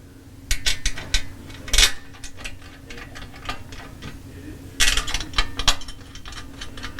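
Button head bolts go into a KTM 790 Adventure Enduro Engineering skid plate by hand with a 4 mm Allen key. Close metallic clicks and small clinks come in uneven clusters, with pauses between them and no talking.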